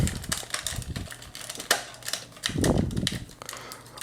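Ratcheting joints clicking as the legs of a Sentinel Riobot Grendizer action figure are rotated, a run of small close clicks and clacks with handling rustle between them.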